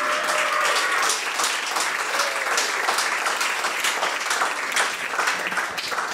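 Audience at a storytelling night in a New York gallery breaks into loud, sustained cheering and applause, dense clapping mixed with whoops and shouts filling the room throughout.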